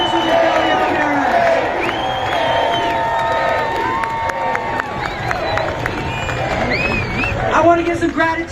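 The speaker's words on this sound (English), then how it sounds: "Let's give another round of applause to Governor J.B. Pritzker and Congresswoman Delia Ramirez." Crowd at an outdoor Chicago political rally cheering and clapping, a dense, loud roar of voices with whoops and shouts carrying steadily throughout, applause mixed in and swelling near the end.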